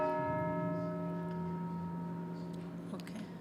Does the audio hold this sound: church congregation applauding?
no